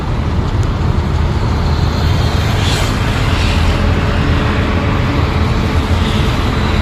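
A car accelerates in gear during a driving lesson, its engine and road noise forming a loud, continuous roar from inside the cabin with no talk.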